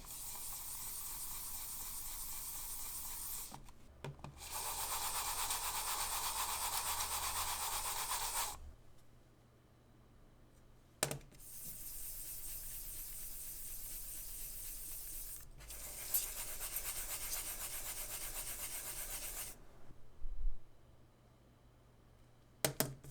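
Mouse skates sliding on Akari, Skypad 4 and Wallhack SP-004 glass mousepads, a steady near scraping hiss in several long strokes separated by pauses, with faint clicks between passes.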